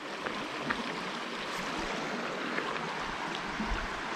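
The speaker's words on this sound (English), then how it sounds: "Still got a fair bit of water coming down it." Water rushes steadily down a rocky creek near Rocky Pool, a soft continuous babbling wash with faint splashes, heard alone and without talk.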